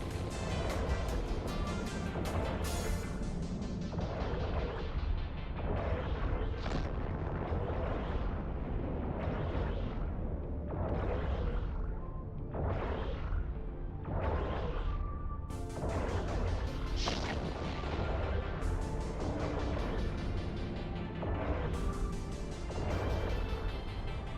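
Missiles and ship weapons fire nonstop in an EVE Online space battle, a loud, dense barrage of crashing, booming impacts layered over one another with no pause.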